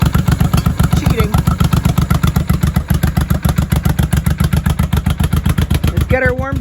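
A 1983 Honda motorcycle engine idles loud and close while warming up, with a steady, rapid, lumpy putter that runs continuously, and someone talks briefly near the end.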